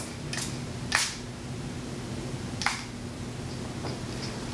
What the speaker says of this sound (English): Let's see what the sprayer's like.